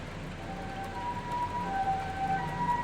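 Ambulance siren in the horror video game Corpse Party: Book of Shadows, a thin wavering tone rising and falling over steady low background noise, heard alone with no talk.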